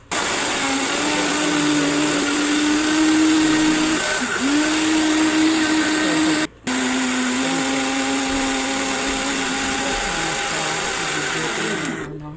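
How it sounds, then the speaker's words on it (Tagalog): A blender blending banana, ginger and lemon whirs loudly and steadily, its motor droning with a brief cutoff midway before spinning back up and running on. "Yan, banana, ginger, lemon, i-blender natin"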